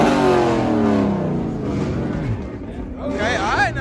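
A Ford Mustang at a car meet revs hard, its exhaust roaring and falling off through several seconds of loud engine noise. Crowd chatter and voices run underneath, though distinct pops are not clearly picked out.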